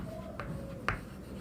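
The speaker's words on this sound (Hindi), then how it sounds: "चलो नहीं ये लिखते हैं" Chalk or marker writing on a classroom board during a chemistry lesson, a couple of short scratchy strokes over quiet room tone.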